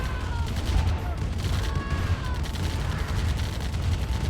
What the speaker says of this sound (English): Tanks are focusing fire on the bikes.